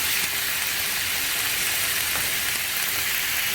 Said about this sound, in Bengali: এবার দিয়ে এটাকে একসাথে ভাজবো